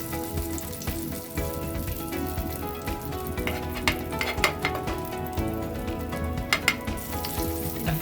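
Apple cinnamon rolls fry in a hot pan with a steady, dense sizzle and crackle. A few sharper pops rise above it, and no one speaks.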